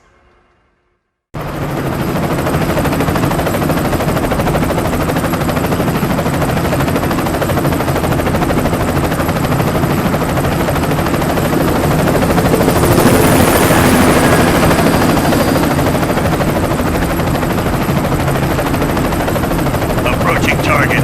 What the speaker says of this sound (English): Airborne gunships, my lord.